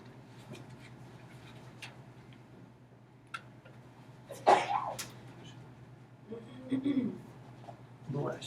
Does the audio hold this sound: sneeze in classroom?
yes